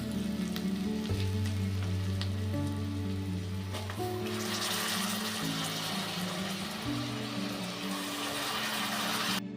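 Soaked basmati rice goes into a hot pan for biranji rice and fries with a loud, steady sizzle and crackle, close up and continuous, with a faint background hum throughout.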